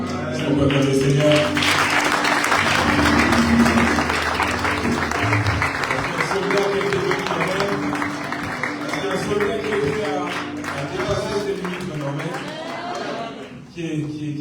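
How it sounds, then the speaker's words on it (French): Church congregation applauding at a youth worship service, sustained loud clapping mixed with music and voices, tapering off near the end. "Est-ce qu'on peut applaudir le Seigneur?"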